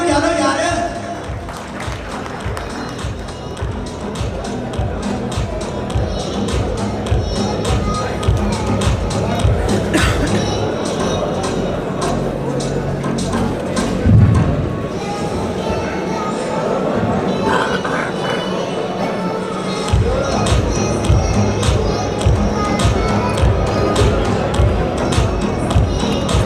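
Crowd at a Punjab pigeon sports festival in Pakistan, with continuous clapping and babble throughout, scattered claps and voices over a loud, dense outdoor din, with an announcer's voice over the noise.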